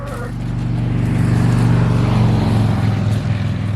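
On a farm, a motorcycle engine growls loudly as it passes close by, its low rumble swelling to a peak midway and easing off slightly toward the end.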